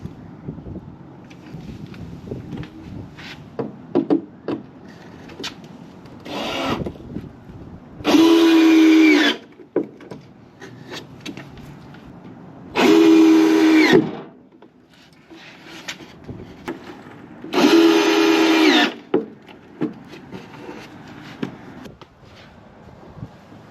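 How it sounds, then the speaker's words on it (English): A power drill drives screws into camper van floor boards, heard as three strong whirring bursts of a second or so each, separated by quieter stretches of handling and knocking. "put the liquid nail on all of them and then screw them all in"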